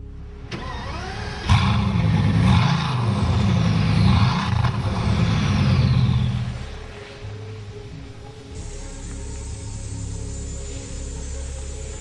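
A Bugatti Veyron 16.4 supercar's engine swells into a loud, deep roar for several seconds, then fades to a quieter idle-like hum while a higher tone lingers.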